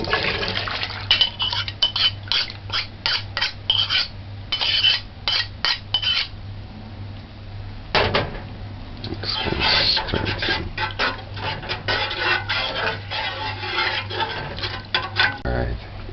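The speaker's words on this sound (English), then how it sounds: "Stir this in." A spoon scrapes and clacks in a pot of cornmeal porridge set between low and off heat, with repeated close, irregular strokes and a wet, thick stir running under a steady low hum.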